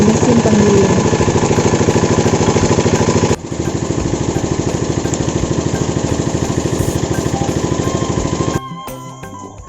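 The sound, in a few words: soybean grinding machine running in a tofu factory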